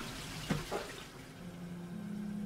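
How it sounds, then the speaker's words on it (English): A toilet flushing in the horror game Lust from Beyond: a soft rush of running water with a brief clunk early on, then a steady refilling hiss and hum, faint and close. "I like it when you can flush toilets"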